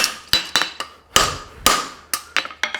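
Hammer blows ring against a steel horseshoe being forged and thinned on an anvil, a loud, close series of sharp metallic strikes in an irregular rhythm, with brief gaps between clusters.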